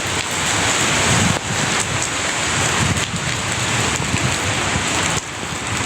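Steady, heavy rain pours down at night in Rabat, Morocco, a dense, loud hiss with no voices, holding constant with slight dips in intensity.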